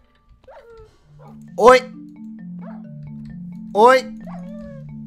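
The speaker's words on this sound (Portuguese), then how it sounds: "E esse monte de cachorro aqui, velho?" Dogs barking in a video game, two sharp barks standing out over a steady low musical drone, with someone talking in between.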